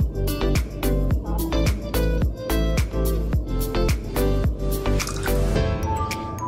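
Vinegar poured into milk in a glass while making buttermilk for a pancake cake, heard as a close run of rapid liquid drips and squishy splashes in quick repeated bursts, with no talking.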